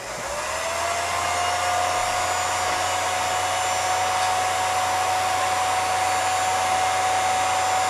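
A film projector's motor runs with a steady, continuous whir and a sustained tone, rising up as it starts and then holding even and fairly loud throughout, with no talk.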